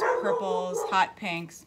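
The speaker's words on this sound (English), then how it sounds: "I'm so sorry about my dog." A dog barks and yips repeatedly close by, several sharp high barks with whimpery edges, while someone talks over them.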